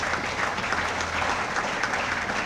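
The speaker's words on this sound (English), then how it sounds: "Could we give them a round of applause?" A gala audience gives steady, dense applause at a New Year's event, a sustained wash of clapping from a sizable crowd throughout.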